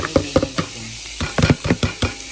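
Onions hitting hot melted butter in a pan, a run of sharp crackling sizzles and clatters in quick bursts, close and fairly loud, with no talking.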